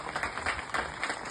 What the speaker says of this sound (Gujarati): સૌપ્રથમ તો તમારા સર્વ માટે એકવાર જોરદાર તાળીઓ થઈ જાય